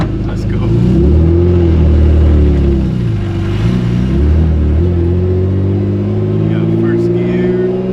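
BMW E36 with a newly fitted 2.93 differential and solid diff bushings, heard from inside on a test drive as the engine revs and pulls in first gear, a loud close rumbling drone rising and falling, with people talking over it.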